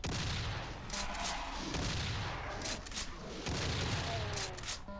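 Shotgun blasts in the video game Doom, several heavy booming shots at irregular intervals over a dense, noisy game soundscape.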